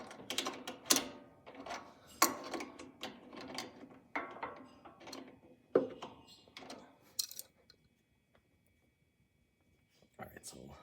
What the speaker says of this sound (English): once you get the initial nut loosened a little bit, you can actually turn it by hand